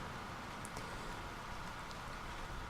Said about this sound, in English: the Fallow Mire, much like the Storm Coast, rains an awful lot